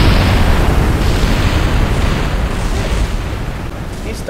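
A rocket slams into the stunt ring in Kerbal Space Program, a loud, sustained rumbling crash of explosions that fills the whole stretch and only slowly eases off.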